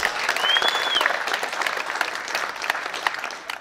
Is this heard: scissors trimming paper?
no